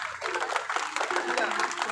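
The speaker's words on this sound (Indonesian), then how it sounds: "Tepuk tangan buat Kan Gong" An audience applauds at a Balinese Calonarang temple performance, a dense patter of clapping that carries on throughout, with a voice talking over it.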